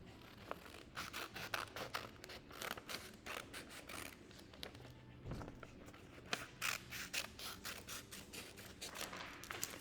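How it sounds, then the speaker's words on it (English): Scissors chop a big rectangle off a sheet of paper, a rapid series of crisp snipping and crunching cuts, close and fairly quiet, with paper rustling between strokes. "Then you take your scissors and chop off this big rectangle."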